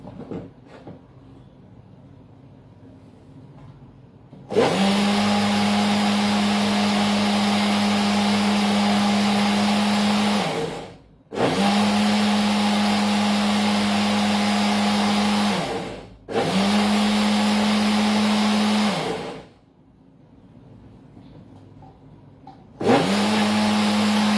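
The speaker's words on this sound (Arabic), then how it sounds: "معلش على صوت الخلاط، هو صوته مزعج شويه" A loud electric blender mixes pancake batter in three long bursts with a steady high motor hum, short pauses between, and a fourth burst starting at the end.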